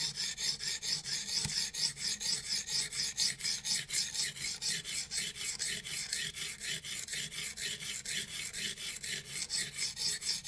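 A knife blade is drawn repeatedly across a sharpening stone while setting the edge bevel, producing a close, rhythmic rasping scrape of even strokes, roughly two per second, with no voices.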